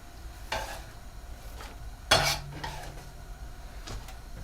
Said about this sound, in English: And I'm just going to dump my eggs right in there. And throw in my vegetables.